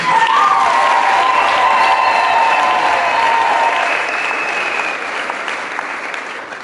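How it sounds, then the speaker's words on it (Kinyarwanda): A crowd claps continuously at a church gathering in Rwanda. The dense, loud applause fades slightly toward the end, and a sustained tone sounds over the clapping. "Amashyi menshi kuri Kristo."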